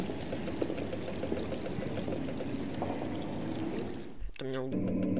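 Water flows from a fountain in the video game Machinarium, a steady rushing, splashing stream heard loud and continuous before a brief dip and a change to a tonal game sound at the end.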